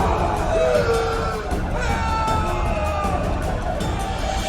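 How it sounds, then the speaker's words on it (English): A rioting crowd roars in an animated cutscene from the video game The Witcher 2, with overlapping yells and shouts blending into a dense, steady clamour. "a riot erupts. A massacre ensues."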